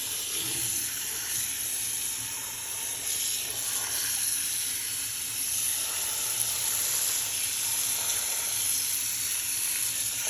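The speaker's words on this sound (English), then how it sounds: "we have filtered water in our home, so I'm going to be filling this up" Filtered tap water runs steadily into a container in a home kitchen, a continuous close hiss and rush of flow with no talking.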